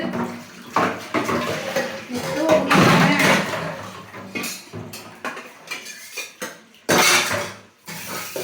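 Pots, pans and dishes clatter and clink with running water, a busy washing-up sound with a person talking throughout.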